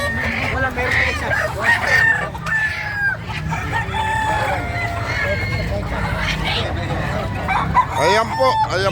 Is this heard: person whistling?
no